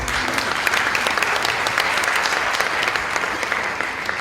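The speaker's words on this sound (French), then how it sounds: "Applaudissez pour mon ami s'il vous plaît." A comedy-show audience in Côte d'Ivoire applauds loudly for a performer's friend, dense rapid clapping from many hands, close and steady across the whole stretch with crisp individual claps standing out.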